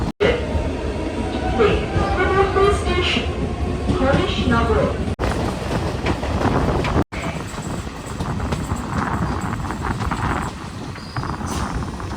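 A Sealdah–Gede local train rumbling along with rattling wheels and wind rush near Majhdia station, loud and continuous, with a voice talking at times.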